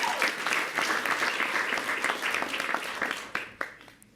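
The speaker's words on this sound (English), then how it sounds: "Okay, now we're going to clap." An audience claps at a press event about a council vote to close Rikers, giving a dense, sustained round of applause that fades into a few scattered claps at the end.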